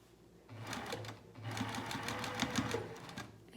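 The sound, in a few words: sewing machine sewing along a pajama pocket edge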